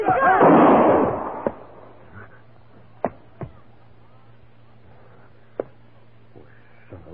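In a western radio drama, a loud gunshot sound effect opens with a rolling blast, followed by a few sharp, quieter pops and clicks over a low steady hum.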